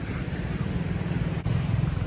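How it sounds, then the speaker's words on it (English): Small ocean waves wash onto a beach at sunset in Aourir, Morocco, a soft continuous surf wash mixed with wind noise on the microphone, no voices. "Very small waves today."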